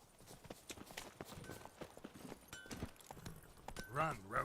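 Roach, the horse in The Witcher 3, trots with rhythmic hoof clip-clops under steady talking, the hoofbeats close and moderately loud, ending in a short harsh voiced sound.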